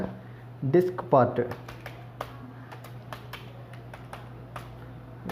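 Computer keys clack in quick, light taps as a command is typed into a Windows command window, with a brief voice near the start and then steady keystrokes alone.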